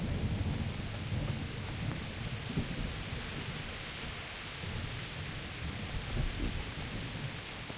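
Steady heavy rain hisses across everything in the medieval open-world game Kingdom Come: Deliverance, with low thunder rumbling underneath throughout, a constant, enveloping wash of sound.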